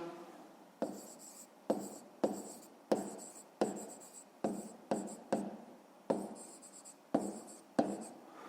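Pen writing in a notebook during a maths exercise, a dozen close scratchy strokes in short separate bursts with a sharp start to each, heard alone in a quiet room.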